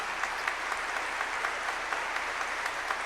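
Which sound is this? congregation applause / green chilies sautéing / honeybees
congregation applause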